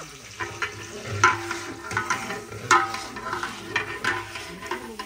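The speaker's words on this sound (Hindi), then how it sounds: "ऑयल हमारा फुल गर्म हो चुका है, अब प्याज डाल दें इसमें" Two kilograms of onions fry in a large pot of hot oil, giving a steady sizzle while a utensil stirs and scrapes through them in uneven strokes. The sound is moderately quiet and close, with no talking.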